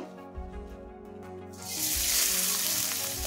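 Freshly grated coconut hits a hot pan and bursts into loud, steady sizzling frying that swells midway through and continues to the end, with no voices.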